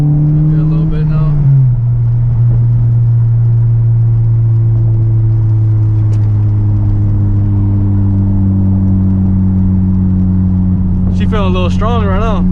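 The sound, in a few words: car engine with HKS cone filter intake accelerating, K24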